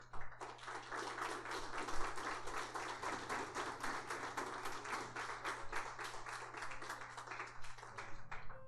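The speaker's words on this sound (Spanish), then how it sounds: "¿Cuánto le da un aplauso al Señor?" Church congregation applauding during a sermon, a dense steady wash of many hands clapping together for several seconds, with a low hum running underneath.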